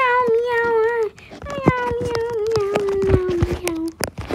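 A person imitates a cat, drawing out long whiny meows one after another, loud and close, with short clicks and breaths between the calls.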